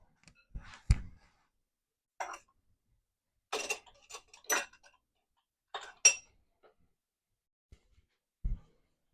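A metal coffee spoon clinks and scrapes as it presses ricotta cheese filling into uncooked manicotti tubes, with a few separate soft clicks and taps spread over a quiet stretch and no talking.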